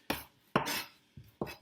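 A knife chops mixed fresh herbs on a board for herb chicken, giving four sharp, close thuds with brief scraping tails at an uneven pace, and no talking.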